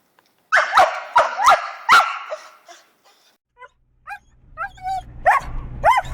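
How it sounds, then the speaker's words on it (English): An excited dog gives a burst of high-pitched barks close by, then trails off into thin whines and whimpers, with more short yelps near the end. "High-pitched barking, whining, crying."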